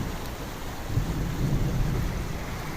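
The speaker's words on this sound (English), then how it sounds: "Look at this water just rushing through." Creek water rushing out of a culvert and dropping off fast, a steady broadband roar of flowing water with no voices.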